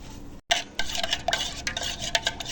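Raw mango sour relish being mixed by hand with panch phoron powder in a bowl, giving a run of close, wet scraping and stirring strokes with small clinks, after a brief silent gap.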